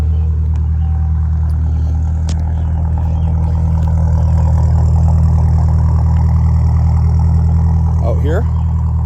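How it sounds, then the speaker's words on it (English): A Ford Turbo Coupe engine idling with a newly fitted exhaust, a steady deep rumbling tone heard up close and loud throughout, with a brief whirring rise near the end. "Out here, it's that nice tone that these cars are known for."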